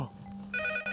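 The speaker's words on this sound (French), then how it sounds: "Les gars, le téléphone sonne encore." Telephone ringing in a car in a forest, a brief electronic ring tone with bright sustained tones starting midway, heard close and fairly clear over a low hum.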